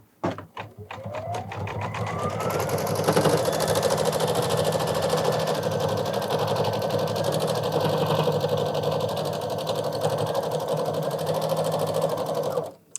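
An embroidery machine stitches the outline of a bunny rabbit for a Kimberbell mug rug, whirring up to speed and then running in a steady, loud, continuous mechanical buzz with a fast needle rhythm until it stops.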